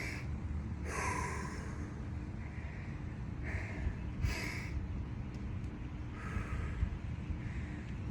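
Slow, deep breaths drawn in and pushed out during an outdoor stretching workout, several audible inhales and exhales over a low rumbling background.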